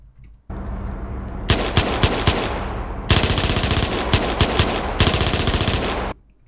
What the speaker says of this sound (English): I want the first shot to be super snappy, and I want the rest to be compressed, so it sounds like that